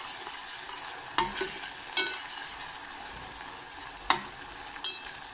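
Garlic and peperoncino frying in a pan give a steady, close sizzle with a few sharp clicks of a utensil against the pan. No one speaks.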